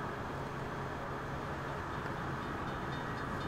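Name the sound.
steam train passing in video game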